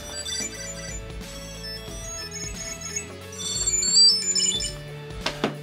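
A bright electronic chirping melody from a Tile Slim Bluetooth tracker rings continuously, repeating short tonal phrases at moderate loudness, with no talking.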